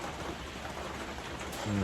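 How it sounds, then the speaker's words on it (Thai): Steady rain pours outside a temple hall in Thailand, a dense, even hiss that fills the whole moment without letup. "แต่เพราะว่าข้างนอกฝนตก"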